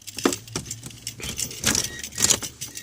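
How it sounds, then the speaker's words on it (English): Car keys jangle close by as they are put into the ignition while fog lights are being wired; a few bright metallic rattles and clinks in quick bursts, no talking. "So let me put my keys in."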